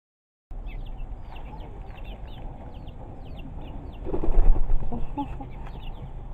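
Chickens at a small backyard home poultry setup cluck and call repeatedly, close and fairly loud, with a brief louder burst of flapping or scuffling midway.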